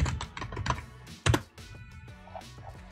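Quick bursts of clicky keystrokes on a computer keyboard, close and crisp, with an irregular rhythm and a louder clack midway, then trailing off into quieter taps.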